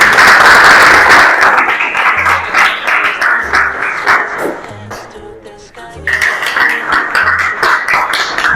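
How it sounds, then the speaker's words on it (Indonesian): A classroom of students applauds a classmate after a presentation, a loud dense burst of clapping that thins into scattered claps and returns strongly, with some talking and knocks mixed in. "Aplaus juga untuk Miftah"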